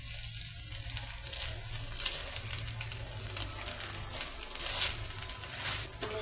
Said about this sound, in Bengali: আমি এখন একটু মালটার রস দিয়ে দিব।